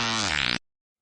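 A blustery fart sound effect, one loud buzzing burst lasting about half a second with a sputtering flutter at the end before cutting to silence.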